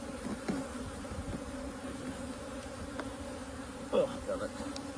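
Honey bees buzz faintly and continuously around an open nuc hive during installation, a soft low hum with a slightly louder pass near the end.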